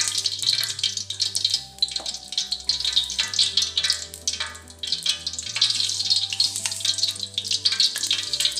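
Mustard seeds sizzle and crackle steadily in hot oil while lemon rice (chitranna) is prepared, a dense, continuous frying hiss with scattered pops over a low hum, with no talking.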